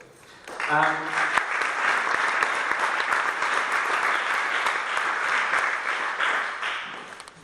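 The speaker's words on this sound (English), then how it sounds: "So please join me in welcoming the 2 speakers." An audience bursts into steady, loud applause for two speakers at a panel event, sustained for several seconds before tapering off at the end.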